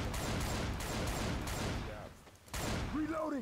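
Rapid gunfire in Left 4 Dead 2 rattles in dense bursts, dropping briefly before resuming, with other game sounds mixed in.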